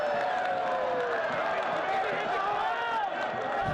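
Football stadium crowd at a Phoenix Rising FC versus Orange County SC match, a continuous broad roar of fans with rising and falling shouts and whistles, steady and fairly close, with a commentator talking over it.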